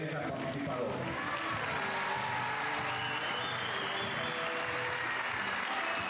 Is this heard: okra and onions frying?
no